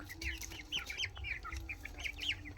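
A rooster and young chicks clucking close by: a run of short, high chirps and clucks repeating quickly over a low background hum, with no talk.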